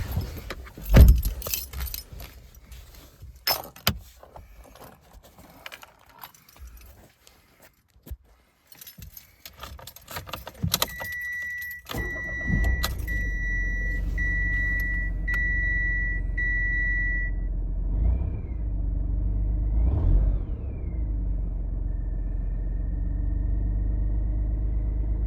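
An engine on a car with its alternator charging circuit modified with added diodes starts after a jingle of keys and ignition chimes, then settles into a steady idle with two brief revs rising from the low rumble.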